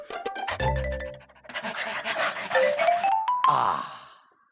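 A person imitates a panting dog with tongue out, producing quick breathy huffs and wavering vocal whines in short uneven bursts, close and fairly loud, alone without other talk.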